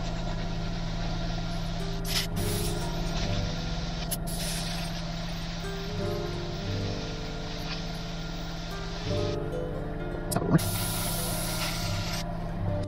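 An airbrush sprays a light coat of pearl blue paint onto a small swimbait lure, a steady close hiss running throughout over a constant low hum, with brief louder bursts near the end.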